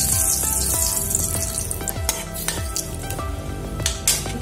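Bay leaf, cinnamon and cardamom sizzle in hot oil for an Assamese fish curry, a continuous crackling hiss with scattered sharp pops and clinks of a utensil against the pan.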